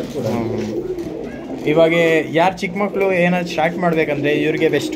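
Old Line pigeons for sale in Bangalore, cooing in repeated soft, throaty phrases close by, while someone talks over and between the calls.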